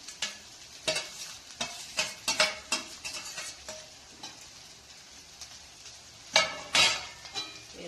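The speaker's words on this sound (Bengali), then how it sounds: "এরপর নাড়িয়ে হয়েই এসছে আমার চাউমিন" Chow mein with fried vegetables being stirred in a hot pan, giving repeated scraping stir strokes over a soft sizzle, with no voices.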